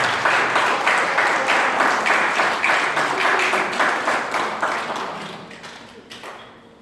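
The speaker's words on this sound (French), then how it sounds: "Applaudissez-le." Congregation applause at a French church sermon, a dense wash of clapping from many hands, loud and steady before gradually thinning and fading out near the end.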